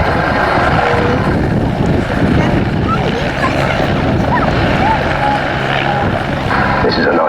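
A Belgian Air Force AW109 helicopter flies backwards, tail leading, at an air show at RAF Cosford, giving a steady loud rotor and engine drone with wind buffeting and a voice talking over it.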